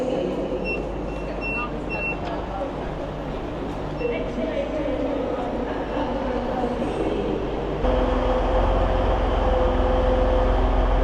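A passenger train runs from Leeds toward Sheffield at night, its steady low rumble and rolling hum filling the carriage throughout, with a slight rise in loudness near the end and a voice talking over it.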